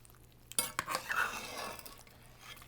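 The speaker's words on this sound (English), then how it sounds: "What we're going to do is we're going to stir it just to sort of move it around a little." A utensil stirs pork carnitas in a pot, giving a few scraping clinks against the metal followed by a soft, wet shuffling over a low background hum, quiet and close.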